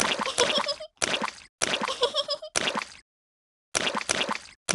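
Repeated squelchy splashes from jumping in muddy puddles in a Peppa Pig video game, several dense bursts of wet dripping and plopping separated by short silences, near and distinct.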